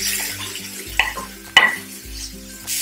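A spoon stirs tomato puree into lightly browned onions in a pan, giving soft sizzling with two sharp metallic clinks against the pan and scraping strokes between them.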